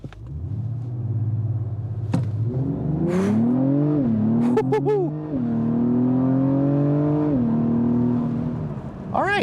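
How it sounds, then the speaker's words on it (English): A 2024 Acura TLX Type S sedan, transmission in sport mode, launches hard from a brake-torque start on a level road, its engine rising loudly through the gears in long climbing sweeps broken by quick shift dips. "let's go ahead and brake torque it and see what we can get"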